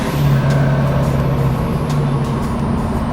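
A truck's turbo exhaust roars loud and close through a shortened pipe, a sustained droning rumble with a steady whine riding on top.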